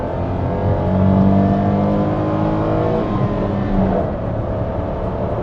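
A 2015 Toyota Agya accelerates in second gear, its engine a loud, continuous drone with a steadily climbing pitch, heard close up with no talking.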